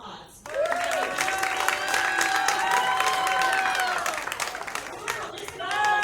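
A live comedy show audience breaks into sustained applause with cheers and whoops, a full crowd clapping loudly and steadily for several seconds before easing slightly near the end.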